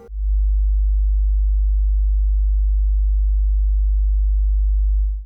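A steady, loud 50 hertz sine test tone hums alone at constant level for about five seconds, with faint higher harmonics above the low drone.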